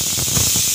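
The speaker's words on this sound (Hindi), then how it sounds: "तो देखिए, कुकर में सीटी आ गई है" Pressure cooker on a gas stove boiling drumsticks (moringa pods) lets out a steady loud hissing steam whistle, continuous for under a second with no talk.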